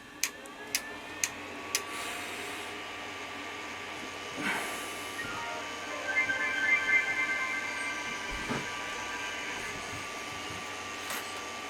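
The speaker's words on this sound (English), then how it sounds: "I am going to turn on the printer." A Creality CR-10S Pro 3D printer powers on with a few sharp clicks, then a steady fan whir and a short run of high beeping tones, close and fairly quiet, with no talking.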